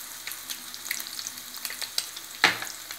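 Eggs frying in a pan for egg biryani, a steady soft sizzle with scattered crackles and one sharper pop, moderately close with no voices.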